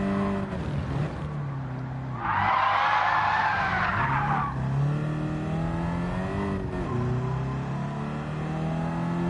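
A race car in Gran Turismo 7 runs wide onto the grass at Tsukuba, its engine droning steadily while a rough skidding rush rises for about two seconds before the engine note settles again.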